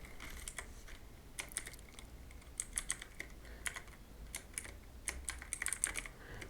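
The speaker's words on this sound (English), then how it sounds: "After that type here" Typing on a computer keyboard with quick clusters of light key clicks and short pauses, close but fairly quiet, no voices.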